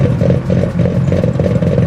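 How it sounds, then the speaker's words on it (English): Car engine and exhaust in the video game Forza Horizon 6, a loud, continuous low rumbling drone with a slightly rough, pulsing texture, heard alone. "One of the biggest step ups in Forza 6 are these exhaust sounds and engine sounds."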